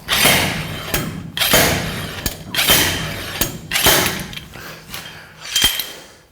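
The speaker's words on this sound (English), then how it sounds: "So let's give her a couple of whacks here." Hammer whacking the rear axle of a 1982 Chevrolet C10 during axle bearing replacement, about six or seven loud metallic blows at an uneven rhythm, each ringing briefly, close with no talk.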